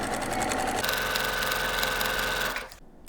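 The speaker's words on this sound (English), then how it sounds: "Now I'm sewing the two fabric F rectangles, one on each side, to the fabric B rectangle to create the shorter string unit." A sewing machine stitches fabric rectangles together for a Christmas ornament quilt block, running in a fast, steady whirring hum close by for over two seconds and then stopping abruptly.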